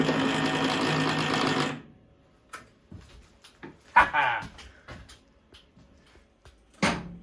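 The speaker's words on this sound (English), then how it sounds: "now we have a working chute motor" Electric chute motor on an Ariens 1336 snowblower runs with a steady, close whirring buzz for about two seconds, then cuts off, leaving scattered clicks, handling knocks and brief voice sounds.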